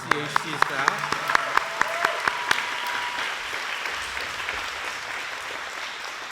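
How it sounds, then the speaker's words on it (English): Audience applause for Community Health Center staff at an awards event, opening with a few distinct claps over a broad wash of clapping that thins and fades after a few seconds. "So I want to give them a round of applause"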